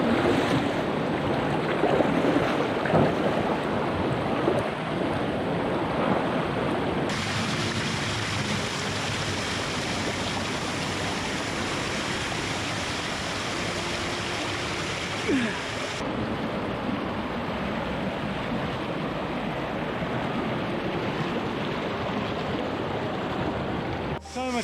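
Heavy water roar from a waterfall on a rainy forest hike on Mount Pirongia, a constant broadband rush close by, filling the whole clip with steady intensity and wind buffeting the microphone.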